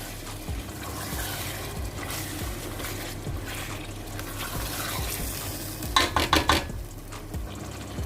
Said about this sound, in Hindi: इनको हम अच्छे से मिक्स करते हैं और इसको हम 2 से 3 मिनट इसको भूनेंगे